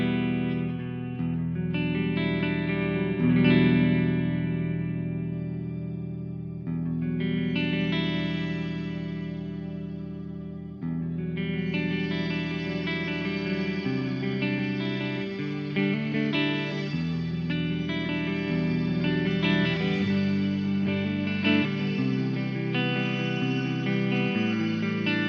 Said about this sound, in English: Let's try the shimmer. As you can see, the shimmer gives you the normal reverb controls, but also this shimmer parameter.